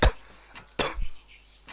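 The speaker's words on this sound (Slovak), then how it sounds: "A trochu kašlem" A person with a cold coughs twice, the short sharp bursts separated by a brief pause, close and fairly loud with no talk.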